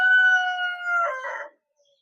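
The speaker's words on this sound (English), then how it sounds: "Yeah, mostly cockerels in here." A cockerel crows once in a long, strained call that breaks up toward the end, close and clear inside a poultry shed holding a few cockerels and hens, with no talking.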